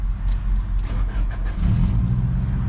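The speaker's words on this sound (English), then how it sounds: "Oh, hear that Subaru rumble." A Subaru WRX STI Type R engine starts and rumbles steadily close by, a low continuous idle that swells slightly louder partway through.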